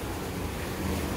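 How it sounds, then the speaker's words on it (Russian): Waves in a water park wave pool at a Rakvere spa hotel in Estonia wash and churn steadily, a continuous close broadband surge with no clear breaks or voices. "Здесь есть волновой бассейн."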